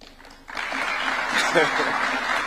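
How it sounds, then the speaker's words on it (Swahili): An audience at a State House, Nairobi meeting with Nairobi United FC breaks into applause, a sudden wash of clapping that holds steady after a moment of talk. "Tupigeni Deno makofi."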